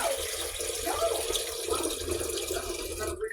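Water runs from a tap close by in a steady, splashing stream, its pitch shifting slightly as it fills a vessel, then stops abruptly at the end.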